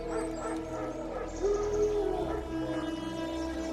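Wild dogs in the video game The Witcher 3 howl and bark, with a drawn-out howl in the middle over a steady game background hum and music, fairly close and moderately loud.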